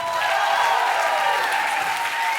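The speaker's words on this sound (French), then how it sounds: "Et on applaudit bien fort notre premier gagnant." A bingo audience at a musical loto gives loud, steady applause for the first winner, with dense close clapping and no talk over it.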